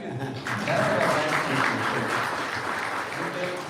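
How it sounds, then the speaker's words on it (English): Audience clapping at a Pakistan-USA tech investment conference in Silicon Valley, a steady, fairly loud round of applause from a room full of people that swells after a brief start and holds. "Go ahead, clap."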